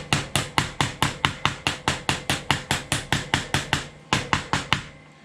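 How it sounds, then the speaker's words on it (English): A hammer strikes sheet metal being bent into a curve, about twenty sharp ringing blows in a steady, fast rhythm, close and loud, with a brief pause near the end. "I can probably kind of bend this around a little bit with a hammer."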